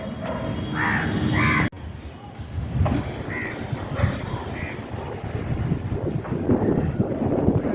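Several crows caw outdoors in short harsh calls at intervals, while gusting wind buffets the microphone throughout.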